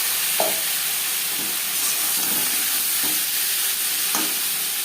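Marinated prawns frying in hot refined oil give a steady, loud, close sizzle throughout, with occasional soft stirring scrapes, no talk.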